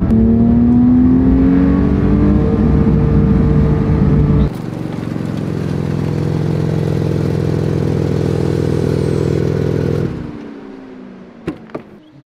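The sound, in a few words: car engine revving against rev limiter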